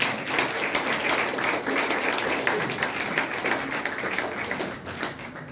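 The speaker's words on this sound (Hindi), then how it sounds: "यस, एक बार हम सभी के लिए जोरदार ताली बजाइए।" Audience at a health seminar breaks into sustained, lively clapping that holds steady for several seconds before easing off slightly at the end.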